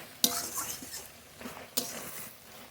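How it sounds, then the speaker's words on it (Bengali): A spatula stirring a vegetable curry with bottle gourd in a pan, faint scraping with two sharp clicks against the pan and a soft sizzle underneath. "তরকারি নেড়ে নেড়ে খুব ভালো করে কষিয়ে নিয়েছি"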